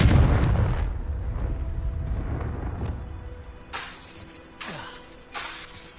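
Confringo spell cast in Hogwarts Legacy: a loud fiery blast opens the clip, followed by crackling debris and a few sharper magical cracks and bursts toward the end.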